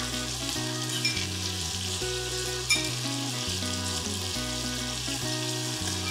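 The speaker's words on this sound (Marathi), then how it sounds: "आता हे करूयात मिक्स आणि कांदा मस्त असा मऊ होईपर्यंत शिजवून घेऊ" Onion with salt frying in oil, a steady loud sizzle running throughout with occasional stirring scrapes and no talk.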